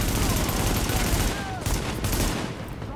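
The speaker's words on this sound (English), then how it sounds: "And blind fire, that's pretty cool." Enemy blind fire in The Division, a rapid, dense burst of gunfire that stays loud and close throughout, with a voice talking faintly underneath.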